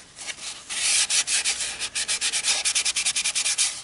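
Final abrasive sanding on a rimmed wooden bowl being turned on a lathe, a steady raspy hiss broken into quick pulsing strokes, loud and close with no voices.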